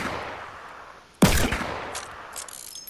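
Gunfire in a console shooter video game: a sudden loud shot cracks out and rings into a dense, decaying burst, followed by fainter distant reports over a steady game background.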